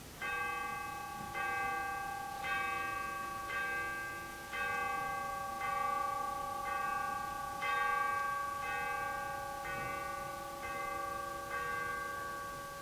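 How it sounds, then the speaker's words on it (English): A church bell tolls at a steady pace with ringing, overlapping strokes, struck twelve times during a school stage production of A Christmas Carol; no talk is heard over the bell. "The bell struck 12."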